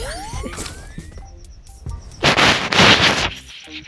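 Gunfire in the Free Fire video game: a rising whistle, then scattered shots, then a loud dense burst of rapid firing near the end, heard without talk.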